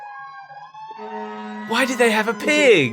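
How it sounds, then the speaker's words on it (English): A loud wailing siren rises and sweeps during a Sonic the Hedgehog game, with a sustained tone beneath it. Someone talks over it. "Very loud siren going on right now."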